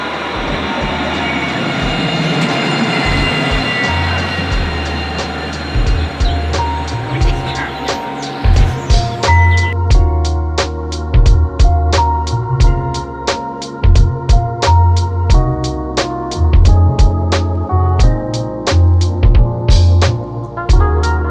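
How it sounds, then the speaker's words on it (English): Steady low rumble of a rail vehicle from inside, with repeated clicks and clunks over the track and rattling in the second half. "We're going in this tram, yeah."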